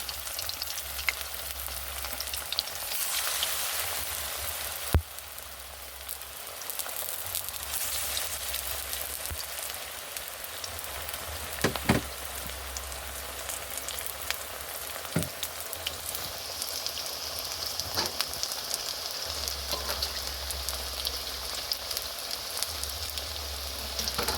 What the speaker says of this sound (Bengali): আরও বাকি যেগুলো আছে সেগুলো ভেজে নেব